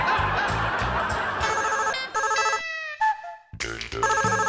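A telephone rings with a loud electronic ringtone in a comedic family home scene, repeating in bursts with a short pause midway, close and alone with no talk.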